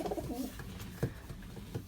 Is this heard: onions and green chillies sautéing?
no